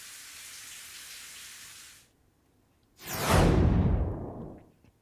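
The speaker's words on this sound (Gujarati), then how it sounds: "અંબાજીમાં ધોધમાર વરસાદ વરસ્યો" Heavy downpour in Ambaji, Gujarat: a steady hiss of rain for two seconds, a short lull, then a louder, closer rushing surge of water noise that gradually fades.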